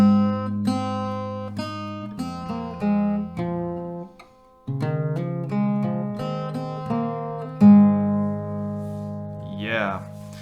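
Acoustic guitar picks out a riff, a lesson-paced run of clear single notes from the open G with a short pause midway and a slide up at the end, close and fairly soft.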